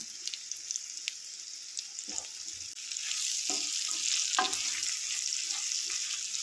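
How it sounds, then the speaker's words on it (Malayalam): Chillies sizzle softly in hot oil as turmeric powder goes in. The low, steady frying crackle carries a few sharper pops and stirring sounds. "മുളകൊക്കെ എണ്ണ കിടന്ന് നല്ലപോലെ ഒന്ന് സോഫ്റ്റായി വന്ന് കഴിയുമ്പോൾ ആ എണ്ണയിലോട്ട് നമുക്ക് ഒരു കാൽ ടീസ്പൂൺ മഞ്ഞൾപ്പൊടി ഇട്ട് കൊടുക്കാം"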